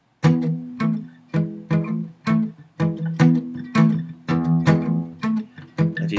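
Guitar riff with sliding double-stops, a dozen or so sharp plucked attacks in an uneven rhythm, each ringing briefly, close and clear with no speech.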